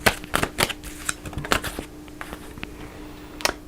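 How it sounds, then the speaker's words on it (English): Slightly sticky tarot cards are shuffled by hand, a run of sharp, close riffling slaps and flutters in uneven bursts, thinning out toward the end, with no talking. "I feel like I need to shuffle again"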